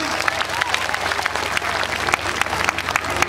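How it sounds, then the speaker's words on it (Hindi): Loud applause from a large audience at a Hindi-language public program, a dense, continuous clatter of many hands that holds steady from start to finish. "जोरदार तालियां, इन्हीं हाथों से जोरदार तालियां"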